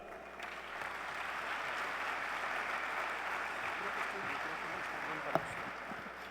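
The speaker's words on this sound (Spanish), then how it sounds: "Démosle un fuerte aplauso." Sustained applause from a large crowd, steady dense clapping throughout with one sharper clap standing out near the end.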